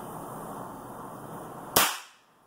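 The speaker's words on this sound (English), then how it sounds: "fire the cap" A single sharp crack from a No. 11 percussion cap fired on a muzzleloader rifle during a function test, sounding close and loud over a steady background hiss, then decaying quickly into quiet.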